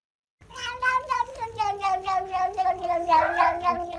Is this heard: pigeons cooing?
no